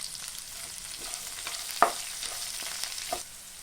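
Sliced onions and green chilies with dry coconut frying in a pan, a constant close sizzle broken by a few sharp scrapes and taps of a stirring spoon.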